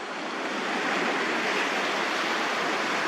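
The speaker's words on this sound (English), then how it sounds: "I'm bathing in the highly purified, carbon-filtered, solar-activated water, which draws the toxins out of my body." Water splashes and rushes steadily during a bath in purified, carbon-filtered water, a continuous broadband wash that stays close and fairly loud for the whole stretch.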